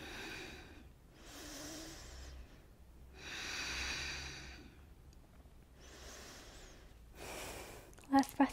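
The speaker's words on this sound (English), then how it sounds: "Three more breaths." Slow, deep yoga breaths come in long audible inhale and exhale cycles, close and steady, with a brief louder sound at the very end.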